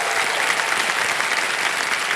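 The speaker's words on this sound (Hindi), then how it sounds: "मैं चाहता हूं कि तालियों के साथ इनका स्वागत किया जाए।" Studio audience applause at a television quiz show, a dense, steady wash of clapping that holds loud and even throughout the short stretch.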